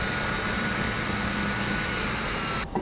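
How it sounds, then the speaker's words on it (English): Power drill boring 5/16-inch holes into a 2018 vehicle frame while installing Air Lift air helper springs; a steady, loud continuous whir runs for almost three seconds, then cuts off abruptly near the end. "I like to mark the center of each hole with the drill before I drill them out completely."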